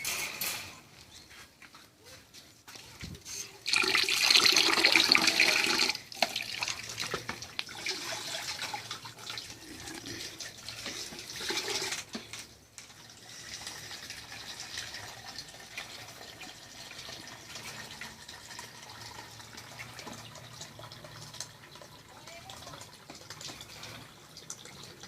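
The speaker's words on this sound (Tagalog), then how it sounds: "Lalagyan na natin ng tubig yung isang swimming pool nila." Water pours into a toy swimming pool, a short louder gush of running water followed by a long stretch of soft, steady trickling filling the pool.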